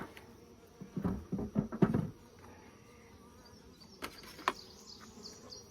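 Honey bees at an opened brown hive while two deep hives are combined, giving a low buzzing hum with a few louder, close bursts of activity near the start and scattered brief buzzes later.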